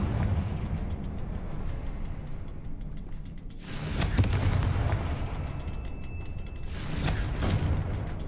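Confringo fire spell in Hogwarts Legacy setting an object ablaze, two loud bursting blasts of roaring fire a few seconds apart over a crackling, mechanical game background.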